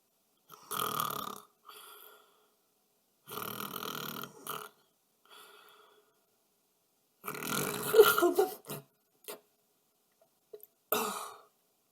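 Heavy snoring from a sleeper in bed: four or five rough, throaty snorts come in uneven bursts separated by silence, close and moderately loud.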